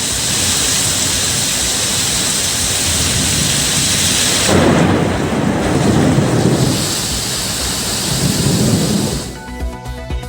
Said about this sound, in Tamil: மதுரை திருமங்கலத்தில் பலத்த சூறைக்காற்றுடன் பெய்த மழை.